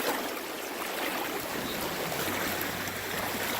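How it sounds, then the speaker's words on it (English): Rapids on the Guadalupe River give a steady, moderately quiet rush of broadband water noise, continuous and unbroken, with no voices. "Nice rapids."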